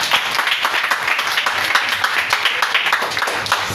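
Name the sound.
congregation applauding at a seminar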